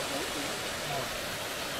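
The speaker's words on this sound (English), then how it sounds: "looks like a small waterfall" A small waterfall gives a steady, close rushing hiss of falling water in cold, fresh outdoor air, constant and unbroken through the short moment.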